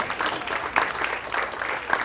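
Scattered applause from a small audience after a card-magic performance, a light patter of hand claps filling the short stretch at moderate level with no speech over it.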